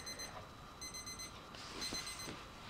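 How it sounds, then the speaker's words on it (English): Faint electronic beeping of a timer in short repeated bursts, a thin high tone pulsing in groups against a quiet background with some rustling. "That's the beep, beep, beep."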